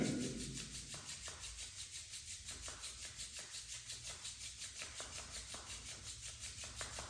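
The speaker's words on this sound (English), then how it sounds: "Rub your both palm." Palms rubbed briskly together during a yoga class, a close, steady rasping swish repeating in an even rhythm throughout, with no talking.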